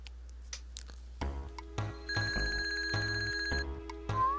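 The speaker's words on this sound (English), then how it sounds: "Mario, answer the cell phone." A cell phone rings in the Super Mario RPG video game as a bright electronic ringtone of repeated chiming tones, steady and clear, pulsing in short rhythmic bursts over low game music.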